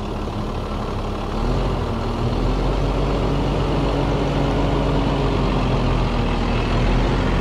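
Steady, close drone of a truck engine under load while towing a trailer, swelling slightly louder after the first second and then holding an even low hum with road noise throughout.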